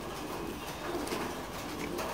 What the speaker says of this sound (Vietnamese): Đây, những cặp bồ câu rất đẹp.